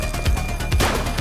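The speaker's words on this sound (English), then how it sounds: "Shots fired!" Gunfire in The Precinct, a police video game: a short run of sharp, close shots with low thumps repeating about every half second, heard alone without talk.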